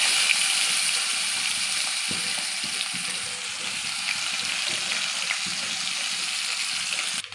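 Chopped onions fry in mustard oil, in a pan already used for frying fish and potatoes and seasoned with cumin and bay leaf. A steady, even sizzle hisses close by without a break.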